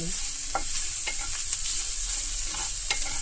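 Ivy gourd pieces with cumin frying in a pan, giving a continuous loud sizzle with occasional scraping stirs, close and without talk.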